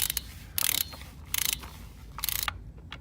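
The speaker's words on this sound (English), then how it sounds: "Now I have the torque wrench and I'm going to torque it down." A torque wrench ratchets in several short bursts of rapid clicks while tightening valve body bolts on a 2007 BMW 525i E60 6HP19 transmission, close up with quiet pauses between strokes.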